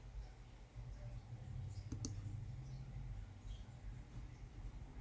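A computer mouse gives two quick, crisp clicks close together, faint against a low background hum with no other distinct sounds.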